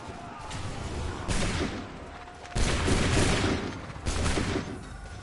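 Musket volleys from soldiers in Assassin's Creed 3: three loud, broad crackling bursts of massed gunfire spaced a second or so apart, each decaying into rumbling battle noise with shouting voices in the background.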